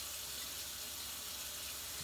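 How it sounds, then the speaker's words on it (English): Water running steadily from a kitchen sink tap, a constant broadband hiss and splash with no talking, held at an even level throughout. "I'm going to get my water kind of running so it'll be warm"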